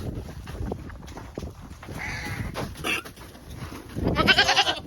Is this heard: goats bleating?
yes